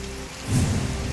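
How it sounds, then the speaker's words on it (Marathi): Heavy monsoon rain in Ratnagiri falls as a steady, dense hiss, loud and continuous, with a low rumble swelling partway through. "रत्नागिरीमध्ये देखील दमदार पावसाची हजेरी"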